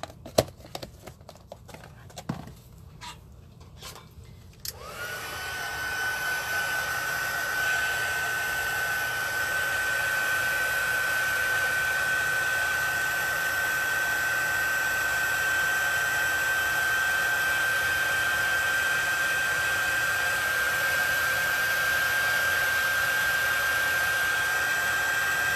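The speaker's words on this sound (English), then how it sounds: "So we're going to do a little heat tool." A heat embossing tool blows hot air over a card, starting after a few soft clicks and handling sounds, then a loud steady whirring blower with a high whine that carries on to the end.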